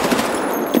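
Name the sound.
MP5 submachine gun firing, from video game Escape From Tarkov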